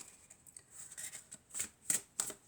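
Fairy oracle cards are shuffled for a reading, making quiet riffling and soft swishes that grow into several sharper flutters toward the end, close up with no talking.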